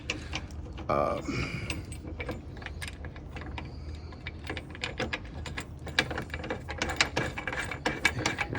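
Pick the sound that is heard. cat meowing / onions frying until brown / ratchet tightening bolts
ratchet tightening bolts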